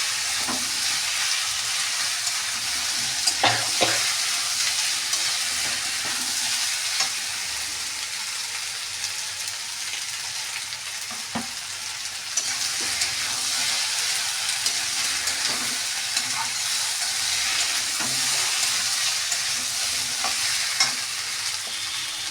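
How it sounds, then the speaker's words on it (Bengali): Paneer masala simmers and sizzles steadily in a pan after water is poured in, a continuous broadband hiss with faint stirring clicks throughout, close and moderately loud with no talking. "এবার আমি জল দিয়ে দিলাম"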